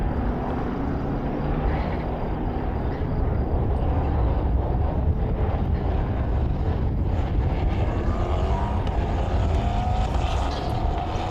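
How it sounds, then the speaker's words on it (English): Several Formula 4 racing engines roar continuously, their whine rising and falling as cars drive around the Balaton Park circuit at speed. "Cars currently getting around the final couple of corners."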